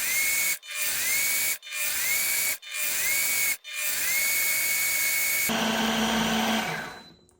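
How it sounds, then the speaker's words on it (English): A combination baby-food blender and steamer whirs in loud bursts, stopping briefly three times, then runs continuously before shifting to a rougher grinding tone and winding down. "I'm going to turn it on and I'm going to push the blend. And it's just going to blend for a minute."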